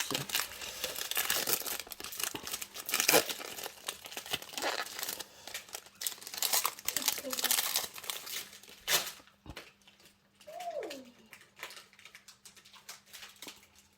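Close, soft crinkling and tearing of a Pokémon card booster pack's plastic wrapper, coming in irregular bursts and settling into quieter rustles, with a brief tonal squeak near the end.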